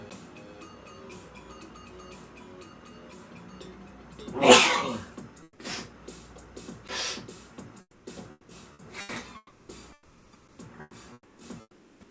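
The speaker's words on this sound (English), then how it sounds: "Hold on, I'm having my sneezing attack right now." A single loud sneeze bursts out, followed by sniffles and a few smaller sneezy, throaty sounds in a quiet room.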